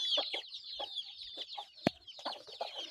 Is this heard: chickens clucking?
yes